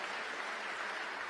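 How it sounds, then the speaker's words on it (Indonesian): A church congregation applauds together in a dense, steady burst of clapping, brief and even, heard alone. "Tepuk tangan bagi Allah kita"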